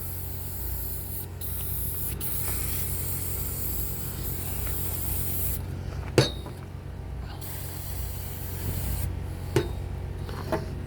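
Degreaser is sprayed onto a Yanmar 186F 10hp diesel generator in a long, close hiss, with a small clink partway through and a steady engine hum running beneath.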